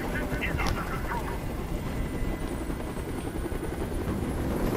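Helicopter hovering in the video game Detroit: Become Human, a loud continuous rotor thump filling the whole stretch, with a few sharp bursts layered over it.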